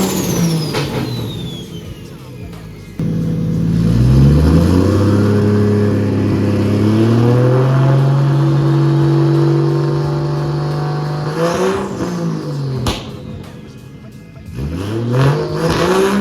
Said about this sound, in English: if you pull the speed sensor out, it makes it whistle like a T51R.